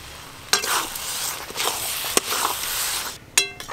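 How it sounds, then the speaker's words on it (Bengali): Fried potatoes tumbled into sizzling spice paste for fish kalia, with a steady fry hiss broken by a few sharp scrapes and clanks of the spoon stirring in the pan. "এবার আমি মশলাতেই ভেজে রাখা আলুগুলো দিয়ে দেব।"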